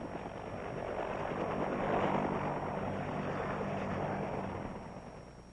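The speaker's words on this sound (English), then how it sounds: "Troop carrier is the big twin-rotor H-21." A big twin-rotor H-21 troop carrier helicopter of the US Army in South Vietnam drones past with a throbbing rotor and engine rumble that swells, holds, then fades, heard alone without talk.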